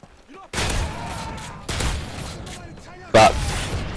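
Video game gunfire in Modern Warfare 3 Survival Mode on the Village map: dense bursts of automatic fire and explosive booms arrive in three loud waves, with a voice talking over the action.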